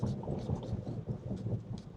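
Steady rain patters on a Tesla's body as it drives along on Michelin CrossClimate 2 tires, a dense, continuous wash of drumming drops with low road rumble underneath and no talk.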